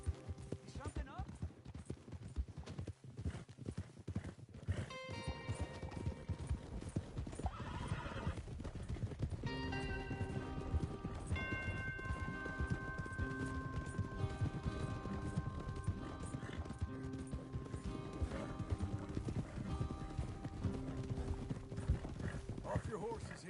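Horses clip-clop at a steady gallop in Red Dead Redemption 2 while neighing and whinnying break through, mixed with talking voices and a busy game soundtrack throughout.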